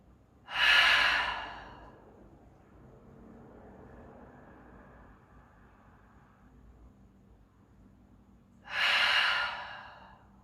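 Two long, deep exhales out through the mouth during yoga breathing, each a breathy whoosh several seconds apart, with a soft inhale between them in a quiet room.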